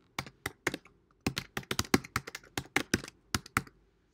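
Quick, irregular bursts of keystrokes on a computer keyboard as a collection set name is typed in Lightroom Classic, close and clear against a quiet room.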